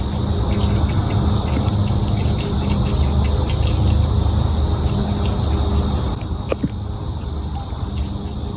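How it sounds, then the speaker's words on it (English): Dense, continuous cricket chirping fills the air, a steady high trill over a constant outdoor noise bed, with no pauses. "And there's a cricket."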